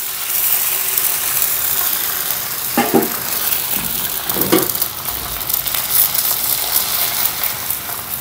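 An egg spread out in a thin layer of oil in a pan fries with a steady, moderately loud sizzle, broken by a couple of scraping clatters around the middle.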